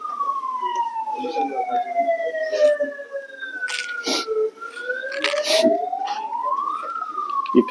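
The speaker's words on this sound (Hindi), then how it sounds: "ये किसका सायरन है?" A wailing siren passes outside a classroom, its pitch sliding down and then rising again, loud and continuous, with people talking and other noises mixed in.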